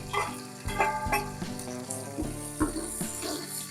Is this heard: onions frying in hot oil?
yes